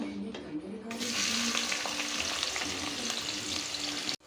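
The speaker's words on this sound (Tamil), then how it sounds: "இந்த வெங்காயம் நல்லா வதங்கி வரட்டங்க" Onions drop into hot oil in a pressure cooker for mutton biryani and break into a loud, steady sizzle after a quieter first second, heard close up.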